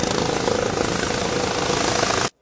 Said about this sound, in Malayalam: ഹെലികോപ്റ്റർ പ്ലാറ്റ്ഫോം നമ്പർ 1 എത്തിച്ചേരുന്നു